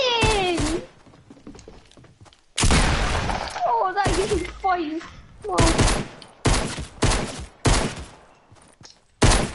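Rapid bursts of game gunfire in Fortnite, several loud broadband volleys separated by short gaps, with a high chirping voice-like sound between them.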